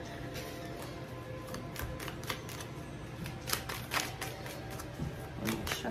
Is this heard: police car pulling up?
no